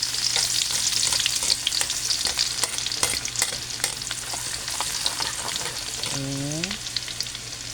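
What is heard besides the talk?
sautéing garlic and onion in a pan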